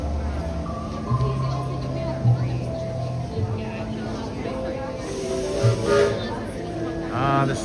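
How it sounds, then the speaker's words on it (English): Disneyland Railroad steam locomotive at the Disneyland theme park, a low steady rumble under busy crowd chatter and nearby voices talking throughout. "sound of the Disneyland Railroad locomotives"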